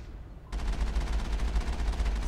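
The Mako tank in the Mass Effect video game fires a rapid burst of cannon and gunfire, a loud stream of heavy repeated shots that starts suddenly after a brief quiet moment and continues to the end.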